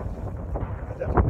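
Wind blowing across a mountaintop, a steady low rumbling buffet against the microphone with gusts swelling near the end, with no voice heard.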